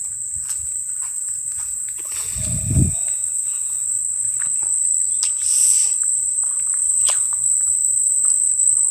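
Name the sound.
cicada calling outdoors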